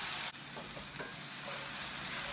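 Squash searing on high heat in a pan, a loud dense continuous sizzle with a faint stirring scrape near the start, close up and without talk.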